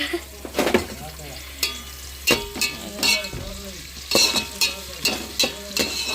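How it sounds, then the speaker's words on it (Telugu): Tempering seeds, then onions, tomatoes and green chillies hit hot oil in a family kitchen, with a constant crackling sizzle broken by sharp metallic clinks of a spoon stirring the pan at an uneven rhythm. "ఆయిల్ హీట్ అయిపోయిన తర్వాత తాలింపు గింజలు వేసుకొని ఉల్లిపాయలు టమాటాలు పచ్చిమిరకాయలు వేస్తుంది"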